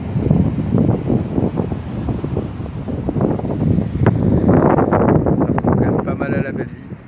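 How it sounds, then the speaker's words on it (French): Strong wind roars against the microphone in continuous heavy gusts along the coast at a kauri sanctuary, nearly drowning out everything else. "on n'entend déjà plus rien à cause du vent"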